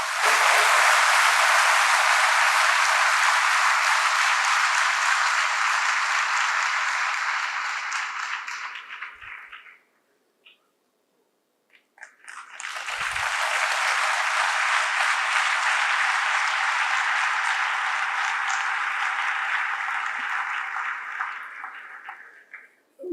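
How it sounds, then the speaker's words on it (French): An audience applauds at a prize ceremony in two loud, dense bursts of clapping, the first fading out to near silence before the second swells and then tapers away. "Merci d'accompagner par vos applaudissements."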